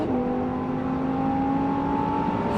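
A Lamborghini Huracán accelerates on a race track at Circuit de Mettet in Belgium, its engine a steady, strong whine that climbs gently in pitch, heard alone without talk.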